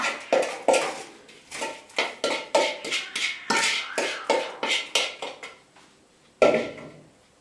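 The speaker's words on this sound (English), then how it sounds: "You're going to put that into the pie pan." Crumbly chocolate peanut butter crust mixture spooned into a 9-inch pie pan, a quick run of clinking scrapes and taps against the pan, evenly spaced and close, then a final knock after a short pause.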